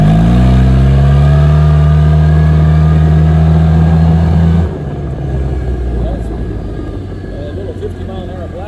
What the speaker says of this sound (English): Let's give her some throttle.